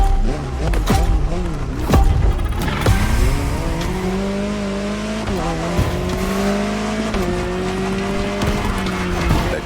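Jaguar CX-75 concept car in The Crew Motorfest, its engine droning loud and steady with pitch sweeps as it revs and shifts, a few sharp transients early on, sustained close throughout.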